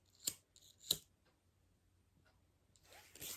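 Scissors snip off the end of a zipper during the sewing of a laptop bag, giving two sharp, close cuts followed by softer fabric handling rustle, with no voices.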